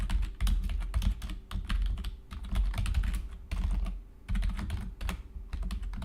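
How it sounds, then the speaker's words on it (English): Rapid typing on a computer keyboard while code is being written, with dense bursts of key clicks separated by brief pauses, close and clear with no talking. "having a hard time typing here"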